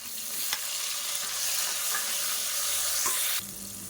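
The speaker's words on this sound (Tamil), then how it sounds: "இப்போ பார்த்தா தக்காளி வெங்காயம் எல்லாமே நல்லா வதங்கிடுச்சு" Shallots, garlic and tomato sauté in a pan with a steady close sizzle, broken by a few scraping stirs of a spoon against the pan.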